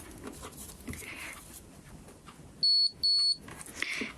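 Two short, sharp electronic beeps in quick succession from a DER EE DE-5004 multimeter in continuity test mode, piercing and clear over a quiet room background.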